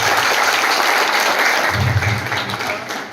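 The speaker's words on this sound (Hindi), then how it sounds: "तो एक बार उनके सम्मान में जोरदार ताली हो जाए सभी सीनियर्स के।" Loud applause from an audience honoring senior members at an RCM business program in Dinanagar, a dense steady roar of clapping that tapers slightly toward the end.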